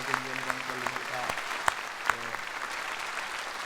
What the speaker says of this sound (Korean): 우리 감사의 박수 보내겠습니다